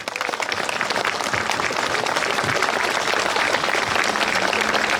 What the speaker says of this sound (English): let's again give them a round of applause